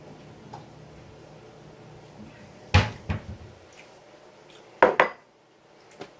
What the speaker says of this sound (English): Let me get a ramen bowl.